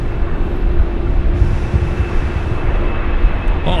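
An airliner takes off from Sydney Airport bound for Haneda, a loud, sustained engine roar with a steady broadband rumble and a faint tonal whine, filling the scene without pause.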